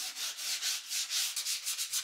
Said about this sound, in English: After 10 days or so, I'm ready for final sanding.